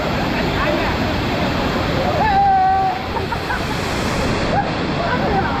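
Lakkom Falls in Munnar: a steady, loud rush of falling water fills the scene, with a brief tonal whistle or call cutting through midway.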